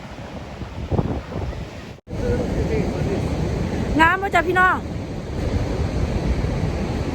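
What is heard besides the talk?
ocean waves at Garie Beach, Australia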